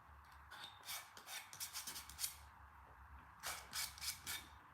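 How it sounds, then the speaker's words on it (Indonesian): Coarse sandpaper rubbed over a styrofoam glider to strip off CA super glue, heard as close bursts of dry scraping strokes in quick back-and-forth runs, with a brief pause before another series of strokes. "Lem CA atau lem super, saya juga menggunakan amplas kasar."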